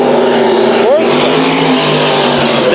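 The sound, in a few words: race cars on the speedway track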